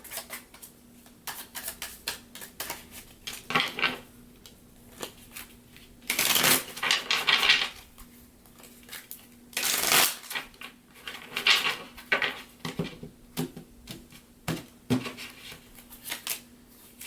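Tarot cards being shuffled and handled, soft papery riffles and flicks in irregular bursts, with a few louder shuffles in the middle and a faint steady hum underneath.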